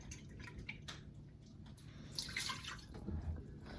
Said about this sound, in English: I'm adding a half a cup of red wine vinegar, half a cup of red wine,